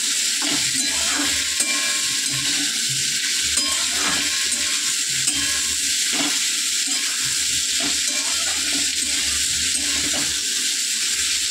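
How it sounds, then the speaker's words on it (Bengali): Long beans frying in a pan with a steady hiss, broken now and then by the scrape of a spatula stirring. "এবার বরবটিগুলো দিয়ে দিই, সব ভাজা করে নেব"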